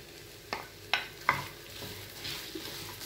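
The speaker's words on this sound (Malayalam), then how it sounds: "വെളുത്തുള്ളി ഇഞ്ചിയൊക്കെ ഇപ്പം നല്ലപോലെ വഴന്നു വന്നിട്ടുണ്ട്" Chopped garlic and ginger sautéing in a pan for Kerala-style mango pickle, with a few sharp scraping stirs over a faint, steady sizzle, heard up close with no talking.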